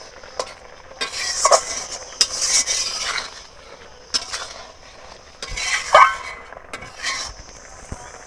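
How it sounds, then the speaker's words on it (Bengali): A metal spatula mashes slightly sour mangoes in a pan of Bengali magur fish sour curry. Repeated scraping and squelching strokes come in uneven bursts, close and fairly loud, with a soft sizzle underneath. "আমগুলো একটু ভালো করে আমি দলে দিচ্ছি খুন্তি দিয়ে এরকম।"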